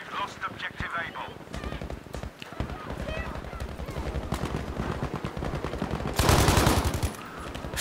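Gunfire in Battlefield V, rapid automatic bursts forming dense repeated cracks through most of the stretch with a louder blast near the end, mixed under players' voices.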